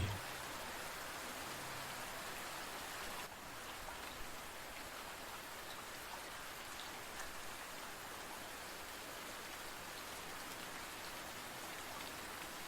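Rain patters continuously on a surface, a dense soft wash of droplets at low volume, steady throughout with no talking.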